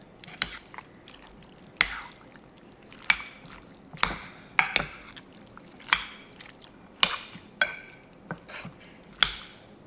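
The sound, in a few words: stirring ground sausage in a pan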